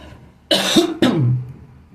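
Two harsh coughs in quick succession, close and loud, with a raspy throaty edge.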